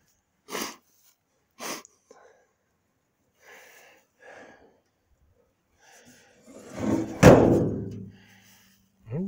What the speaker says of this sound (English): The door closes pretty good.